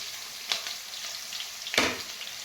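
Onion and ginger-garlic paste fry in a pan for veg pulao, making a soft, steady sizzle. Two brief bursts of louder hissing or stirring stand out over it. Fairly quiet, no talking.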